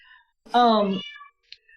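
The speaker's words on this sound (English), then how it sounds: "the cat carries stuffed animals around and wants to yowl while she does it" A cat carrying a stuffed toy lets out one loud, drawn-out yowl that lasts about half a second and fades, followed by a brief faint chirp.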